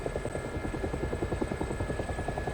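A helicopter flying low at an air show, its rotor chop pulsing steadily and loudly in a fast, even throb with a thin high whine above.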